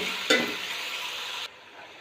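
Chicken with garlic frying in a pot is stirred, a steady close sizzle with a sharp scrape near the start that cuts off abruptly partway through, leaving a quieter hiss.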